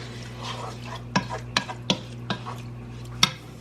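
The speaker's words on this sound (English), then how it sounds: "So I'm just going to mix that up." A meat mixture being stirred in a pot, with soft scraping and several sharp clanks of a utensil against the pot over a steady low hum.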